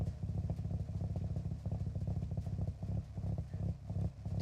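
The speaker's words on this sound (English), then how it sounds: "I just want to hear the engine a little bit better." A Toyota 86 idles in Forza Horizon, its engine giving a steady, slightly lumpy mid-pitched burble with rhythmic pulses, close and alone.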